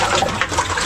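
Rainwater pours and splashes out of a container onto cement and sand being mixed for plastering, a brief, close, loud gush of liquid.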